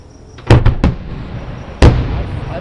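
Fourth of July fireworks bursting: three quick sharp bangs in a row, then a pause and one more loud blast, each trailing into a faint rumble outdoors.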